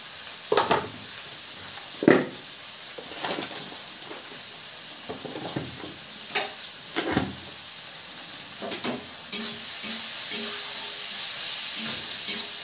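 Potatoes sizzling as they fry in a pan, with a steady hiss and crackle throughout and several louder bursts and stirring scrapes along the way.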